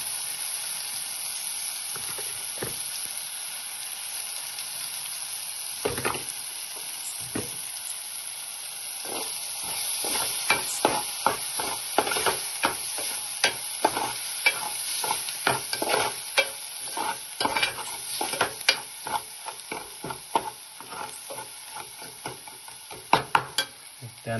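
Tomato paste and Malvani masala sizzle and fry in a pan while being stirred, a steady hiss with scraping stir strokes that grow busier and louder toward the end.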